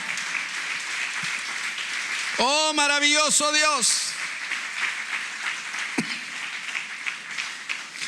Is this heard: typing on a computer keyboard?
no